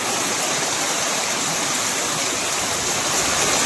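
Heavy rainwater rushes past like a river in a flooded market street during a downpour with wind, a loud, steady broadband torrent filling the whole stretch without pause.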